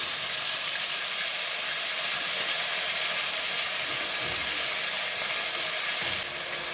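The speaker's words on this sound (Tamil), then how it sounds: "அதுக்கப்புறமா இஞ்சி பூண்டு பேஸ்ட் போட்டுடுறோம்." Ginger garlic paste sizzles in hot oil for a restaurant-style pepper mushroom gravy, a loud, constant, close hiss that stays even throughout with no talking.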